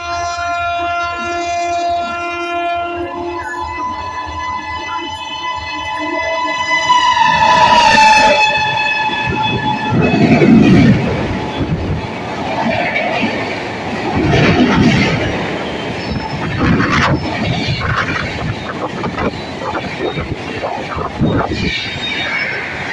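A passenger train bound from Howrah towards Bardhaman sounds a long, loud horn and then rolls past close by, its wheels clattering and rumbling over the rails in a steady, swelling roar.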